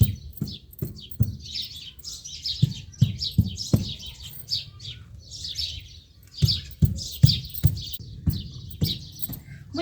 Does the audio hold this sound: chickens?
yes